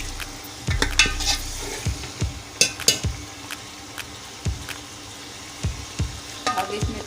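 Chicken for a biryani sizzles in a pan while a utensil stirs and scrapes it, giving repeated knocks and clatters over a continuous frying hiss.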